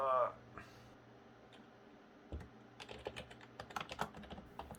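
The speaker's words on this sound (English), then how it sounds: "This uninterrupted typing you can hear right now is me blindly entering the description" Blind typing on a computer keyboard running Windows XP and Firefox, a quick irregular run of close, crisp key clicks in the second half after a brief quiet stretch, with a voice murmuring near the start.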